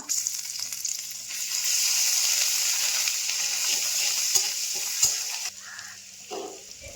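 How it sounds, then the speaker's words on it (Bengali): Whole cumin seeds, bay leaf and chopped ginger sizzle steadily in hot oil, a loud, close, continuous frying hiss with a few soft clicks of stirring near the end, and no talking. "ফোড়ন দিয়ে এলাম গোটা জিরে তেজপাতা কেটে রাখা আদা"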